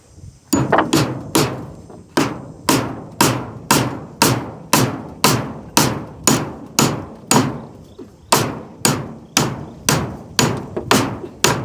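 Nails are hammered while building a roof: a long, evenly paced series of about twenty sharp, ringing hammer strikes, loud and close, with no talk over them.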